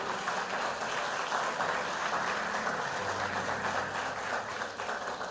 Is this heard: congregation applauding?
yes